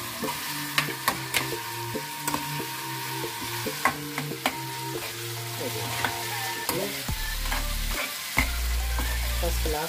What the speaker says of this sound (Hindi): मसाला हमारा लगभग भून के तैयार हो चुका है।